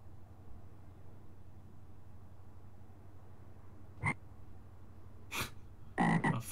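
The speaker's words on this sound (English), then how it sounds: "A frog." A frog in a modded Minecraft game gives a few short croaks near the end, one single croak followed by a brief pair, over a quiet, faint background.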